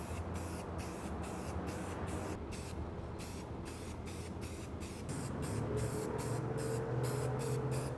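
Spray primer hisses onto Nerf blaster parts in a rapid series of short, close bursts, each a loud airy spritz broken by brief gaps, with a faint hum joining near the end.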